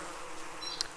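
Bees buzz in the video game Don't Starve Together, a faint, steady droning hum with a brief higher whine near the end, heard alone without talk.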